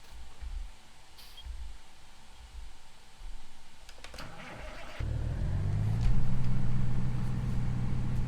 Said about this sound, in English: we'll move the grain truck out of the way